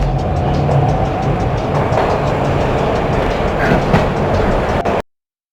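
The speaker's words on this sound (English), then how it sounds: "This was my second train ride of the night." Train rolling along rails in the video game Max Payne, a steady loud rumble with faint rhythmic clatter running continuously, then cutting off abruptly at the end.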